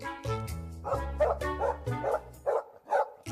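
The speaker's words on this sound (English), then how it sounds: "It's what a typical dog sounds like when it barks." A dog barks in a steady series of about eight sharp, fairly close barks, evenly spaced and loud, with nothing else heard around them.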